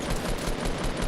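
Rapid gunfire in the battle royale video game Fortnite, a dense continuous burst of automatic shots filling the whole short moment, loud and close with no talking.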